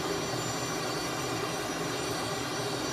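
A steady, unbroken jet engine roar comes from a Canadair CT-114 Tutor flown near Moose Jaw Airport in a VR flight simulator, filling the whole stretch without voices.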